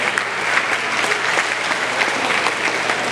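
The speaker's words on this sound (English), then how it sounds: "Let's give her a warm round of applause." Sustained audience applause at a Philippine formal event as the host is welcomed, a dense, steady wash of many hands clapping, loud and continuous without a break.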